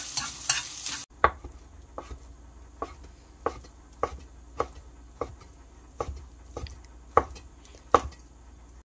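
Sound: stir-frying mushroom japchae in perilla oil

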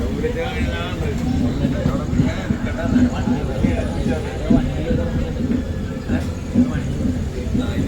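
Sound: passenger train running, Ernakulam to Patna Express

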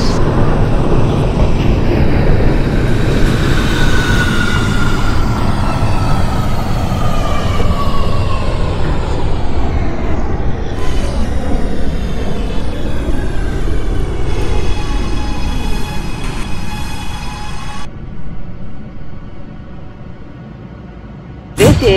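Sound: Brooklyn-bound C local subway train running, OpenBVE simulator video game

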